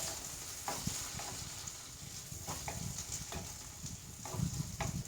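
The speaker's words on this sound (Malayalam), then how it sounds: "ആ വെളിച്ചെണ്ണയിലേക്ക് നമുക്ക് ഈ സവാള അങ്ങോട്ട് ഇട്ട് കൊടുക്കാം സവാള അങ്ങോട്ട് ഇട്ട് കൊടുത്തു ഈ സവാള ഒന്നും ഇങ്ങോട്ട് മൂത്ത് വരട്ടെ" Sliced onions fry in hot coconut oil in a pan for a soursop curry, a steady soft sizzle with occasional faint stirring scrapes and pops, fairly quiet and with no talking.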